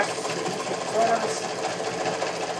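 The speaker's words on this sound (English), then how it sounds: "was sewing at 110 miles an hour" A sewing machine runs fast and steadily for the whole stretch, a dense, continuous mechanical whir at close range and fairly loud, with a faint voice briefly mixed in under the machine noise.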